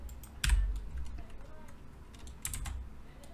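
Computer keyboard key presses while working in Blender: two distinct clacks of keys, a sharp one early and another near the end, with quiet room tone and faint mouse-like clicks between.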